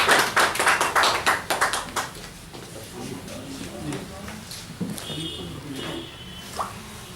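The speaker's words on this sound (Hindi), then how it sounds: "आइए एक बार जोरदार तालियों से" Scattered claps from an audience at a Hindi-language honoring ceremony: a burst of sharp, uneven hand claps in the first two seconds that quickly thins out, leaving murmuring voices and room noise.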